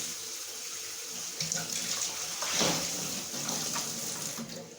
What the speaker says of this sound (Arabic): بحب اشطف كل حاجه كده قبل ما استخدمها